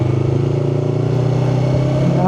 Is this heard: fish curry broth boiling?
no